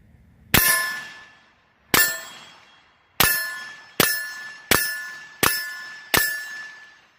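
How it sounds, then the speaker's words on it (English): Rifle or pistol rounds striking the edge of a steel target, seven sharp metallic clangs, each ringing out and decaying before the next, spaced about a second apart with no talking. "But go ahead and shoot just the edge of this piece of steel."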